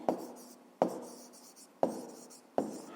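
Pen writing an answer on paper: four sharp strokes, each starting with a tap and fading into a scratchy trail, close and quiet.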